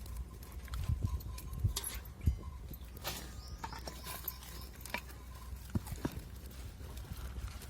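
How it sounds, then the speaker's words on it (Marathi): Tender spinach being cut into small pieces in a home kitchen: a series of irregular, distinct taps and knocks at close range over a faint background, with no speech. "आणि लगेच थोडं कापून घ्यायचं आपल्याला एक एक दोन दोन भाग तुकडे करून घ्यायचे त्याचे"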